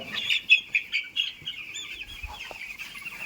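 Poultry chickens in a farm shed clucking repeatedly in short, uneven bursts, close and clear, with no talk over them.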